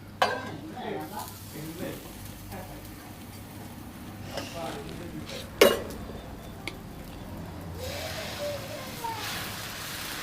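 Dosa batter frying on a hot pan until crispy, with a continuous close sizzle and a sharp scrape or clink partway through as someone talks over it.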